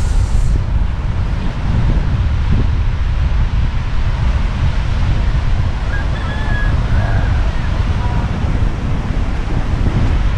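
Constant roar of strong storm wind mixed with crashing sea waves, loud and steady throughout, with no talking.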